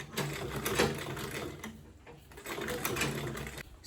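A sewing machine stitches around the shape of an Ankara fabric bag, its rapid needle chatter running steadily and fairly close, easing slightly mid-stretch before picking up again.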